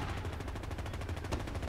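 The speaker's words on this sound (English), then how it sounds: "this shotgun's not too bad" Rapid gunfire from the Medal of Honor 2010 video game, a dense burst of repeated shots rattling continuously for under two seconds at moderate volume, with no gaps between reports.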